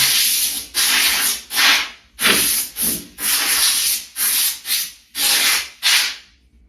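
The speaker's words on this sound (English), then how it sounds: "I'm just going to use some compressed air to finish cleaning off any other lint" Compressed air blasts lint off a stain pad in a series of about nine short, loud hissing bursts with brief pauses between them, close up.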